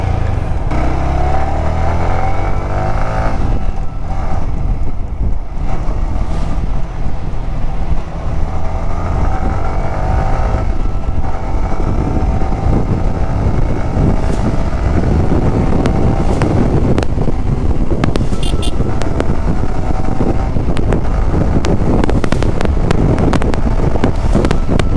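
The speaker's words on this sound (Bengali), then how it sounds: "ও এক্সস্ট নোটটা বাইকটাতে বসলে সেই লাগে আমার কাছে" Yamaha R15 V3 motorcycle ridden at speed, its exhaust drone and engine note blended with heavy wind buffeting on the microphone, loud and continuous with shifting revs throughout.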